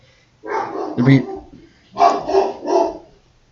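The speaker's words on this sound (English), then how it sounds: "sorry, my dog was barking." A dog barks close and loud in two short bursts, a pair of yips followed by a quick run of three barks, with a quiet pause between them.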